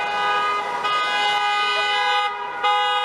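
Car horns from a wedding procession of several cars in a Berlin street blare in long, sustained overlapping honks, loud and continuous, with a brief dip before resuming.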